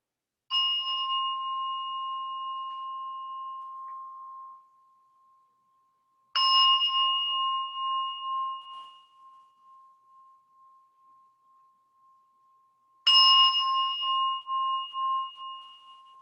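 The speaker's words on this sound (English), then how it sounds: "Ringing the bell 3 times to bring us into this moment and into your practice today." A meditation bell rings three times at long even intervals, each clear tone sustaining and slowly fading into silence before the next strike, during a chair yoga session.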